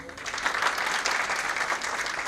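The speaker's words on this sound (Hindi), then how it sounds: "उनके लिए भी तालियां" Audience applause for members of a women's wing at a devotional gathering, a brisk, even burst of many hands clapping close by, with some murmured voices underneath.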